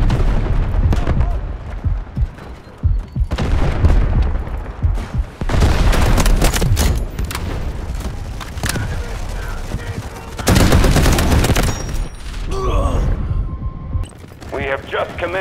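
Shotgun fire from a Remington 870 in Delta Force: Hawk Ops, heavy blasts and rattling volleys going off close and loud amid other battlefield gunfire, with someone talking over parts of it.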